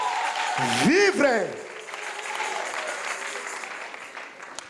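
Church congregation applause rises after a loud exclamation from the pastor, then continues as a moderate clapping crowd beneath lingering voices and fades gradually.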